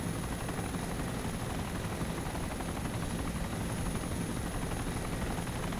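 A Little Bird helicopter in the video game DayZ Origins thrums with a steady rotor chop and engine whine, continuous and fairly faint, with no talk.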